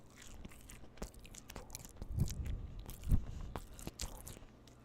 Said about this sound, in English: You want the ASMR of me eating this?